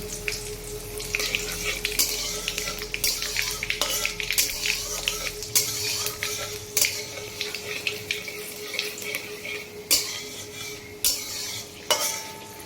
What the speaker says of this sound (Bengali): এবার আমরা এর মধ্যে দিয়ে শুকনো লঙ্কা ফোড়ন আর দিয়ে দেবো কালো জিরে ফোড়ন